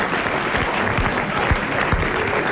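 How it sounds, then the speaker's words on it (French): Studio audience applauding a game show winner on a 1990s French TV program, steady dense clapping throughout with no voices over it. "Le regagnant mérite d'être applaudi."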